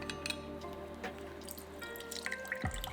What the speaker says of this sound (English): I'm going to juice it into the container.